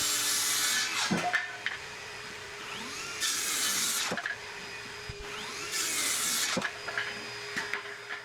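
A wood jointer cuts 2x4 lumber in three loud, hissing passes of several seconds each, with the machine's steady hum and a few sharp knocks between passes.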